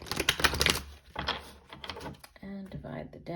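Tarot cards riffled and shuffled in quick, crisp bursts of clicking flutter, close and fairly quiet, with a few pauses between the shuffles.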